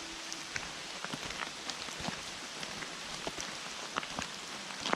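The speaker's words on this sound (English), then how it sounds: "I'm fed up with this rain." Steady rain patters on surfaces at Loughmacroy Lake in County Tyrone, a dense even hiss with scattered sharper drops, moderately near, with no talk over it.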